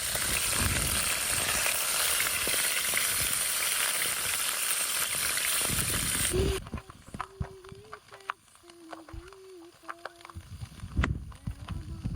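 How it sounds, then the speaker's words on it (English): Loud, continuous sizzling of food frying in a pan for several seconds, then it drops away to quieter clinks and a low voice. "we love watching the pan sizzle"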